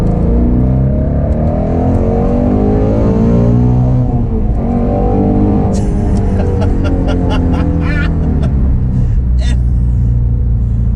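A Ford Mustang Shelby GT350R engine roars and revs loudly, its pitch rising and falling through gear changes, with some rattling clicks near the end.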